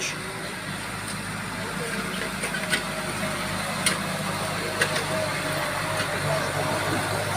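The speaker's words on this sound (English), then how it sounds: "A tractor's fast." A tractor engine drones steadily at a distance on a vegetable field in the Philippine countryside, a low continuous rumble with faint outdoor ambience and occasional light knocks.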